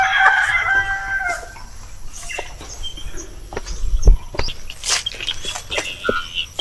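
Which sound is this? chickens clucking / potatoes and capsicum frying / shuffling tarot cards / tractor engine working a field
chickens clucking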